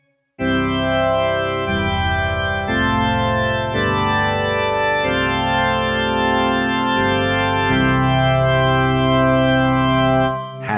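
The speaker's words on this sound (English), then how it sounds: "Organ sound, like a church organ." Church organ voice on a Montford MFDP9 digital piano, sustained full chords changing every second or two, rich and steady, played alone with no speech.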